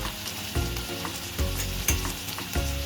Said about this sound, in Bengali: টমেটোটা ভালো করে কষিয়ে নেব।